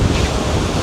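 Steady, loud wind buffeting the microphone outdoors in Jamaica, a broad continuous roar with no voices.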